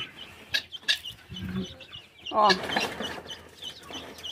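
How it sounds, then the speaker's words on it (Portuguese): Chickens clucking and squawking nearby while being fed grain, with irregular bursts of calls and a brief voice in between. "Olha quanto que eu joguei lá para as galinhas."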